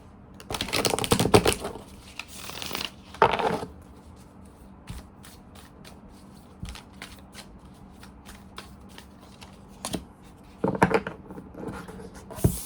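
A Wild Unknown Tarot card deck is shuffled in a few short, crisp riffling bursts near the start, around three seconds in, and again near the end, separated by quiet stretches with light tapping.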